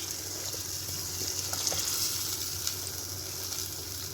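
Aloo keema, a potato and minced meat dish, fries in a pan while being stirred, giving a steady, close sizzle with a few soft scraping and stirring sounds and no talking.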